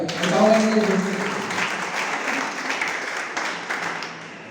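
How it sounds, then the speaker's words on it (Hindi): A seminar audience breaks into applause after a speaker's success story, the clapping swelling early and then slowly thinning out, with a voice briefly heard at the start. "जोरदार तालियां"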